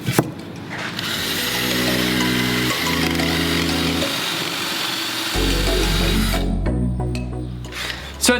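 A power drill boring dowel holes in a wooden shoe rack, a loud close whine holding steady pitch through several long bursts, shifting speed between holes, with no talk.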